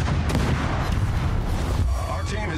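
Ship guns firing in World of Warships boom heavily with a rumbling low roar that fills the moment, followed by a fainter crackling tail.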